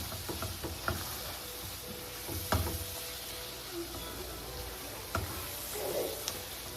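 Flour is stirred into a sizzling frying-pan mixture for shepherd's pie: a soft, steady sizzle runs throughout, broken by a few faint utensil scrapes and knocks.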